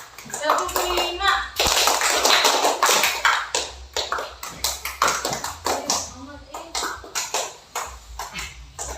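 A class of children claps in rhythmic bursts, first a dense flurry, then a run of distinct evenly spaced claps, while young voices and a teacher's voice are heard alongside.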